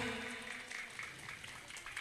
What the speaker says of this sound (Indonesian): Silakan Bu, tepuk tangannya.